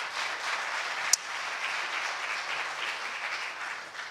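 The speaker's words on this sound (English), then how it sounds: "give them a hand clap" A church congregation claps for its pastors in appreciation, a soft, steady patter of applause that sounds somewhat distant and continues evenly, with one sharp isolated clap standing out early.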